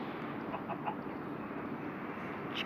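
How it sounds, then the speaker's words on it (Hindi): Minecraft chicken clucking in the video game, a few soft clucks over steady background game noise, with no talking. "ये रहा चिकन।"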